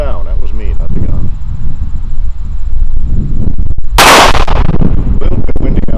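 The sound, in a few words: gunshot fired at an outdoor range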